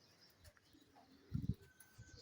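A breeding pair of King pigeons gives a short low cooing burst, soft and close, with faint scattered rustling around it and no talking.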